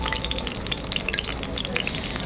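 Food fries in a pan at home with a close, busy sizzle and popping crackle that holds steady throughout, with no voices.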